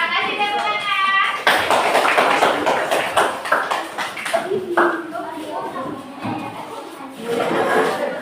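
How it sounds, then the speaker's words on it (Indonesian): Students in a classroom clap for a student group's presentation in a short lively burst, followed by children's voices and shuffling while talk continues over the fading claps. "kasih tepuk tangan"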